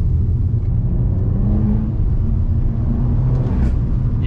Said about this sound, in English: You hear that exhaust note?